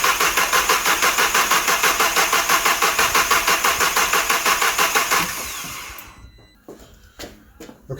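An Audi A3 Black Edition engine cranks on the starter with its ignition coil packs removed, a loud, steady rhythmic churning for about five seconds before it stops, followed by quieter clunks and shop noise.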